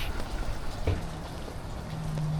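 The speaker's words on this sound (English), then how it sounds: "let's get going in the rain." Rain falls outdoors as a steady, dense patter with a few nearby drips and a low rumble underneath, and nobody talks.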